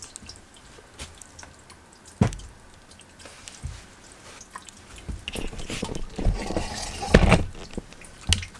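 Water drips from the bottom of a freshly watered pepper tower planter in a garden: scattered, irregular close drips and small splats, sparse at first and then more frequent, with no voices.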